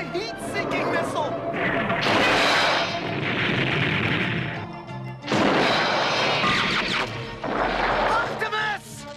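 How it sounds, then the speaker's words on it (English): A cartoon heat-seeking missile explosion in a classic 1984 Transformers animated scene, loud crashing booms in several bursts, with shouting voices over them. "That's a heat-seeking missile!"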